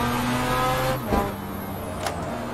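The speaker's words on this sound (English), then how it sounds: "Sounds exactly like an RX-7." Mazda RX-7 style car engine in a racing video game revs hard with a rising whine, dips briefly as a gear change, then climbs again in a short, close burst.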